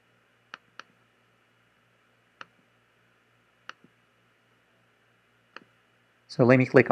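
Sharp computer mouse clicks sound singly and in quick pairs, spaced out over several seconds in a quiet room, before a voice starts talking at the end.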